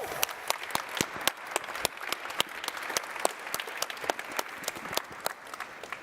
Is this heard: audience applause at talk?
yes